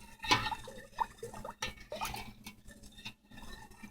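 A utensil stirs goat's milk and rennet in a pot for mozzarella, giving soft clinks and scrapes against the metal with faint liquid swishing, close and quiet.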